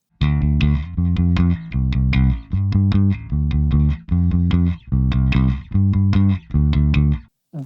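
Electric bass guitar plays a steady repeated pattern of plucked notes, with audible finger slides smearing pitch between them, close and clear with no speech.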